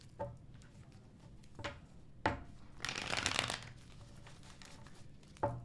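Tarot cards being shuffled in hand: a few short, soft card flicks, then a dense riffling burst lasting under a second, followed by more isolated taps and snaps, close and quiet with no talking.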